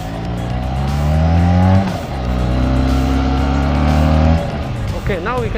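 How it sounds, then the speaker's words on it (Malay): A QJ Motor SRK 250RR motorcycle engine revs up loudly and close by through two strong accelerating pulls with rising pitch, then eases off near the end. "Okay, this motorcycle is light. It's full of torque."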